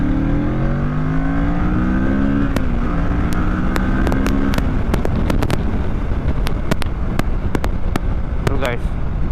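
Kawasaki Ninja 650 motorcycle accelerating on a test ride, the engine note climbing through gears close to the microphone under heavy wind rush, with a rider speaking over it.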